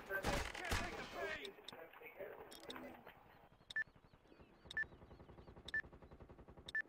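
Gunfire in the online shooter MAG during a clan battle, bursts of automatic fire up front, then sharp single shots spaced about a second apart over steady background game noise.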